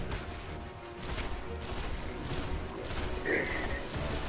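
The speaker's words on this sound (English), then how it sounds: "All of them are shooting at the same time." Rapid gunfire from many enemies in the video game Destiny, a dense continuous volley of overlapping shots at steady loudness throughout.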